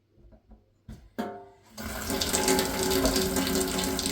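A few clicks and short spurts give way to a steady, hissing rush of mineral water pouring from a Quooker kitchen tap, loud and close.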